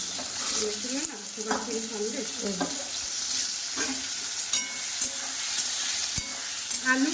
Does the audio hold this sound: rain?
no